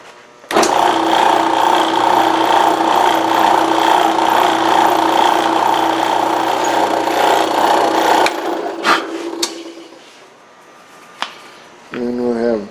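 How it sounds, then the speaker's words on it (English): A power drill bores steadily through leather trim inside a 2012 Cadillac CTS, running loud and continuous for about eight seconds, then cutting off, followed by a few brief knocks and a short whirring tail. "I'm just going to bring my drill down right to the right side of each one of them, and that'll put it dead center"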